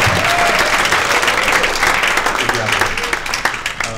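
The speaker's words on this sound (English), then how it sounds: "One is a big round of applause for the guys who put this together tonight." A conference audience applauds loudly and steadily, a dense wash of clapping from many hands that carries on throughout and tapers slightly toward the end.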